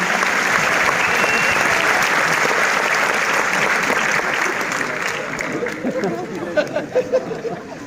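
An audience claps together in a dense, sustained burst that thins out toward the end into a few scattered claps and low murmuring.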